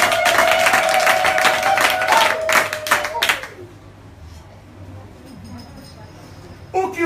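A church congregation claps together for about three and a half seconds, a loud dense burst of applause over a sustained tone, then it fades to quiet room noise before a voice returns near the end.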